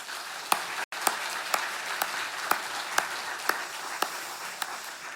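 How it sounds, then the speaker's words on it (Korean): A church congregation claps for parents and teachers at a Sunday service, a steady roomful of applause with a few sharper individual claps standing out and a brief dropout near the start. "우리 위로와 격려의 박수 한번 보내시겠습니다"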